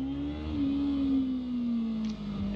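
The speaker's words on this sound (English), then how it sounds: "so that's what the revving is for." A car engine revs high after a missed gear change, a steady sustained whine holding a high pitch and sagging slowly over about two seconds, heard clearly from inside the cabin.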